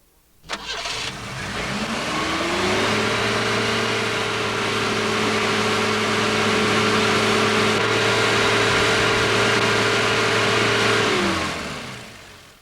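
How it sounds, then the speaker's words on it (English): A car engine, with its headlamps switched on, starts with a brief crank and catches, then runs steadily as its speed is slowly raised, a loud, sustained hum that holds for about ten seconds before dropping away. "Then start the engine and slowly increase the speed, while watching the voltmeter reading."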